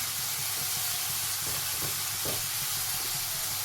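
Katla fish pieces frying with Kashmiri chili powder in a pan, a dense continuous hiss and sizzle with low stirring knocks throughout, loud and close with no voices.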